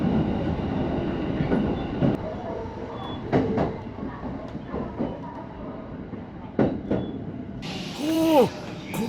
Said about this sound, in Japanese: そしてこの電車は次の駅で終点を迎える。